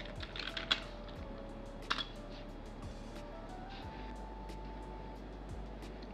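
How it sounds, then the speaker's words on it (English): Someone types a search on a computer keyboard with quick, light key taps clustered early and then a few scattered presses, over a steady low background hum. "head to the search box and type in ebook or A4"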